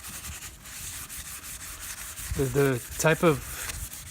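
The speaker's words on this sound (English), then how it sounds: "with this wet sandpaper, I'm just going to sand" Wet sandpaper rubs back and forth over a car headlight in a steady scratchy rasp, close and continuous, with someone talking briefly near the end.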